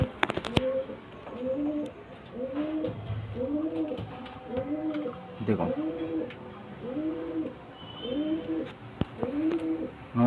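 Madrasi pigeons give repeated soft, rhythmic cooing calls, roughly one every second, close by at moderate volume, with occasional clatter and a few sharp knocks in the background.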